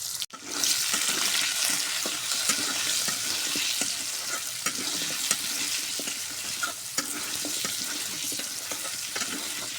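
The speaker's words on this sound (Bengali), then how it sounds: "হলুদ দিয়ে আর লবণ দিয়ে সুন্দর করে আলুটা আমি লাল লাল করে ভাজে নেব।" Potatoes frying in a pan with turmeric and salt, a dense continuous sizzle and crackle with faint stirring scrapes, close and steady throughout with no talking.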